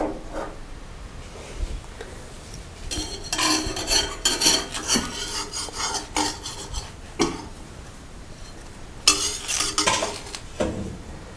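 Dosa batter poured onto a hot pan and swirled to spread: uneven scraping and clinking from utensil and pan, with a soft sizzle between the busier, louder passages.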